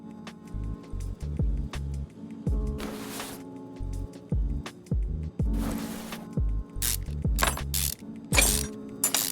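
Car parts are unbolted in Car Mechanic Simulator 2021 with quick ratcheting wrench bursts and clicks. These come in rapid clusters separated by short whooshing sweeps and mechanical clunks, with no voice over them.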